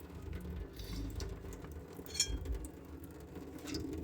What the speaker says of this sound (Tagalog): hugasan lang to sa lababo